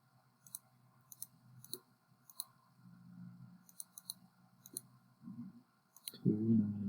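Calculator keys tapped in short, irregular clicks while values are entered for a column sum, faint and close, with low murmuring voices and handling noise building toward the end.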